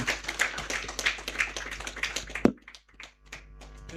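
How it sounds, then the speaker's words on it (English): Audience applause at a formal data collection framework launch event, a dense patter of many hands clapping that cuts off sharply partway through, leaving a few scattered claps and faint room sound. "I would invite all the audience to another round of applause"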